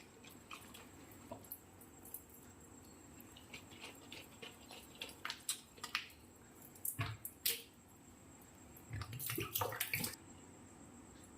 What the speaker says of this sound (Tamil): ஸோ உள்ளே இருக்க தண்ணி கொட்டியாச்சு.